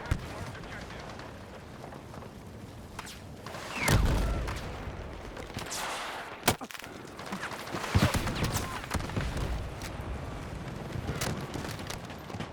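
Gunfire in the video game Battlefield 6, repeated loud shots and bursts across the clip with a sharp heavy blast near the start and scattered impacts, layered over constant battlefield noise without speech.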